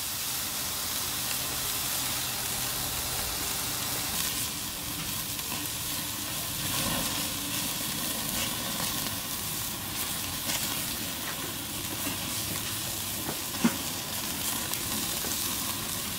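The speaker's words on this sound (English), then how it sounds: "We're going to put it right over the coals and finish them over the hot coals" Burgers sizzling over hot coals on a Weber grill, a steady dense crackling hiss that runs unbroken, with a few sharper pops.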